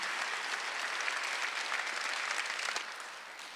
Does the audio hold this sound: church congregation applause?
yes